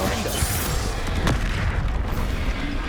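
In the video game Hogwarts Legacy, the Confringo spell sets off a loud, dense blast, a burst of booming noise that fills the short moment.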